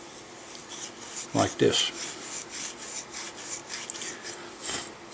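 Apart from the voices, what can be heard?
rotating steel wool against a gun ramrod thimble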